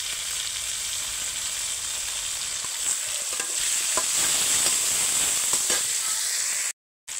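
Tomato dropped into hot oil in a frying pan for a prawn and taro curry, sizzling and hissing loudly, with a few stirring clicks and crackles and a brief cut near the end.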